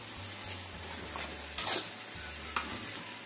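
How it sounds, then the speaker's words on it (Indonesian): A seasoned dish is stirred in a pan over low heat, a faint steady sizzle with soft scraping strokes and a couple of brief clinks, no voices. "Kita aduk."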